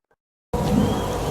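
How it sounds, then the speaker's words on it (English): Lion roar from a Lion King video game: after half a second of silence, a loud, broad, rumbling blast starts abruptly and holds steady to the end, standing alone with no talk. "that's the sound of a lion."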